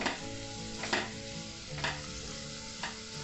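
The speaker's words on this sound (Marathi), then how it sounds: "मी 2 मोठे कांदे असे पातळ उभे स्लाइस करून घेतलेले आहेत, तर तो आता फ्राय करून घेऊया" Two large onions, thinly sliced lengthwise, frying in oil for Lucknowi chicken dum biryani: a steady hiss of oil with a few scraping stirs spaced about a second apart, and no voices.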